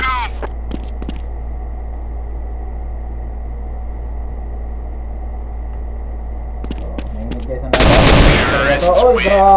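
Sharp burst of Counter-Strike gunfire erupts near the end of a mostly quiet stretch of gameplay, loud and dense with rapid shots, preceded by a few faint clicks and distant pops.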